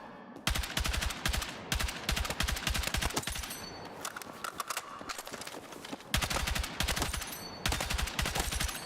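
Bursts of M277 rifle fire in Battlefield 6 ring out in rapid, evenly spaced volleys, loud and close, with short pauses between strings of shots.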